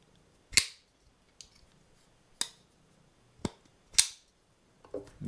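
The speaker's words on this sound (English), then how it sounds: "the sound, really clacky sound," Pocketknife blades, from a Shirogorov Custom Division Hation and a Neon NL, flick open with a series of crisp, sharp clacks spaced about a second apart, close and isolated with no talking.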